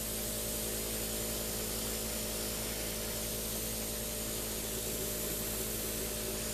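An airbrush driven by a compressor sprays white primer onto a miniature painted with nail art stencils, giving a steady, loud, continuous hiss that runs unbroken and alone throughout.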